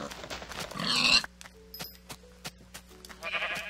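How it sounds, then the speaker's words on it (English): A Minecraft sheep gives a short bleat amid game noise, with a loud burst of in-game sound at the start and quieter clicks and tones following. "And a sheep."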